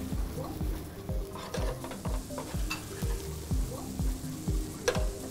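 Octopus spring roll filling sizzles and fries in a hot pan while being stirred, with a steady crackle and regular scraping strokes of the utensil close by, no talking.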